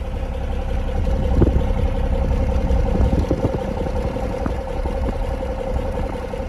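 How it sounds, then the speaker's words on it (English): Car engine idling, heard at the single rear exhaust: a steady, close low rumble with an even mechanical hum throughout and no speech. "So I promised you listen to the engine at idle."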